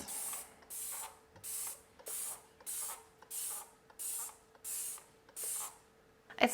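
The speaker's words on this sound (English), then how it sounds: "I sprayed this guy down too." A spray bottle pumped nine times in a steady rhythm, each short hissing spritz close and crisp, with brief pauses between.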